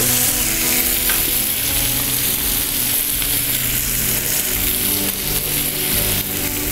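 Tomato, chicken and brinjal frying in hot oil, a loud, dense, continuous sizzle that stays steady and close throughout.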